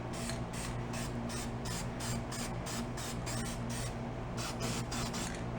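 Rapid rhythmic hissing of John Deere green spray paint going onto an old mower, a steady broad spray pulsing in quick strokes, close and continuous with no talking.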